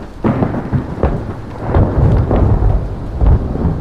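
Deep, loud thunder rumbles on and on in rolling waves, with heavy rain hissing underneath.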